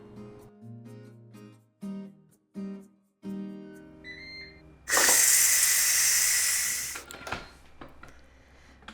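Ninja Foodi pressure cooker venting steam on immediate release: after a series of beeps, a loud, close, continuous hiss bursts out for about two seconds, then cuts off, leaving faint clicks.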